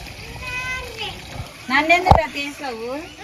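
A child chatters while water splashes, with one sharp, close splash standing out near the middle.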